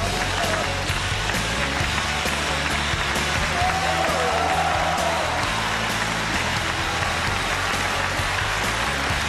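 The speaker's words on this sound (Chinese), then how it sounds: "让我们掌声有请他" Studio audience at a televised Chinese job-interview show applauds as a 33-year-old contestant is welcomed on stage; steady, dense clapping fills the whole stretch at an even level, with a faint voice briefly audible underneath.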